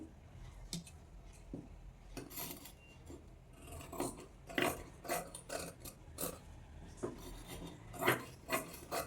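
Scissors cut through blouse fabric along a princess-cut line, giving a series of close, faint rasping snips in an irregular rhythm with short pauses between strokes.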